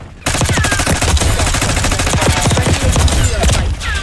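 Gunfire in Black Ops 6 multiplayer, rapid, dense automatic bursts from several weapons rattling continuously at close range and loud volume, with brief game voice chatter mixed in.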